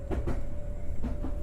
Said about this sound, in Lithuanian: Traukinys pradeda lėtėti dar tada,